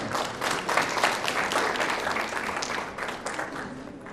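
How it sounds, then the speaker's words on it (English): Applause from the audience at an annual business conference gala, a steady round of clapping that fills the hall and fades slightly toward the close. "So a round of applause to Panasonic Engineering."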